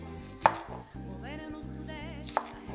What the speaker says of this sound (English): And we cut the onion.